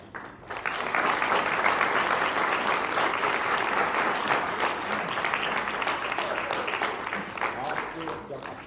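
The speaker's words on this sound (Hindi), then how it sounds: "तो इसी बात पे एक बार फिर तालियां" Auditorium audience applauding after the Hindi stage play Gaj Foot Inch at L.T.G Auditorium in New Delhi, dense sustained clapping starting sharply and holding loud for several seconds, with a voice speaking over it.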